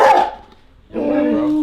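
A big dog barks loudly and close by, two sharp barks a short pause apart, the second drawn out into a longer bark.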